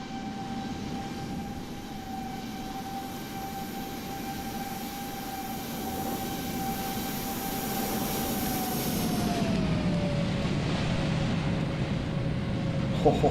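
Airliner on short final in a flight simulator, a steady jet engine whine and broad rushing roar that gets slightly louder, with the engine tone dropping in pitch near the end.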